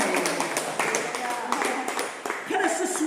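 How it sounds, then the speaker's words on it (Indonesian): A church congregation claps hands loudly, with rapid, uneven claps forming a steady patter close by while a voice talks over it. "kalau mau tepuk tangan yang keras"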